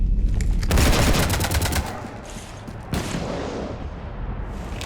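Rapid gunfire from a Mass Effect video game battle raking a ship, a dense burst of loud close shots for nearly two seconds, then a heavy impact and lingering rumble with scattered further hits.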